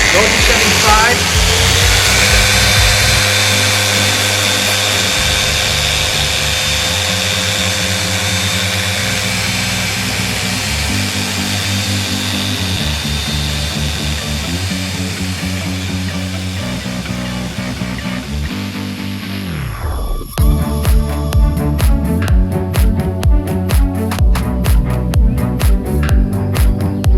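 A Krauss Shinemaster S08 dual action orbital polisher runs loud and close with a steady whirring drone whose pitch steps between speed settings, then winds down to a stop near the end.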